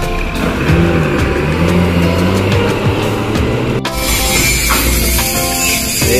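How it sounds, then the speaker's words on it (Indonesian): An Adek Trans bus bound for Surabaya pulls away from Pekanbaru, a steady loud engine roar with rumbling low drone and shifting noise throughout, no voices. "unit bus Adek Trans berangkatan dari Pekanbaru tujuan Surabaya"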